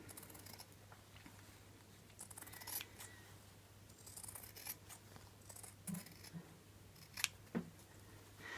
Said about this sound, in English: And then cut away the centimetre from the bodice side front